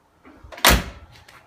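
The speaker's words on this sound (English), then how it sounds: "Same with the passenger door." Passenger door of a 1974 Alfa Romeo Spider being shut, giving one close, solid thud with a brief rattle of the latch afterwards, heard alone without speech.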